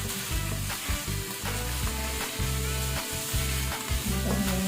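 Food sautés in margarine in a pan, giving a steady loud sizzle and crackle with a low rhythmic pulse beneath it and no talking.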